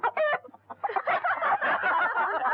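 Chickens clucking loudly and continuously, with dense overlapping clucks and squawks close by, a few sharper calls at the start, over a steady low hum.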